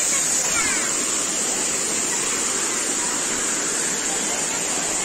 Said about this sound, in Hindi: ये देखो वाटरफॉल भाई, ये waterfall काइपो लांगसो waterfall Kaziranga Karbi Anglong guys